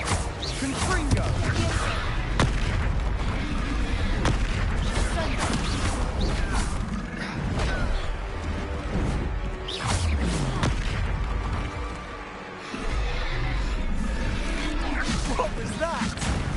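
Confringo fire-blast spell explosions from the Hogwarts Legacy video game burst out as loud booms and whooshing crashes during a chaotic magical battle, with repeated sharp impacts and voices over the din.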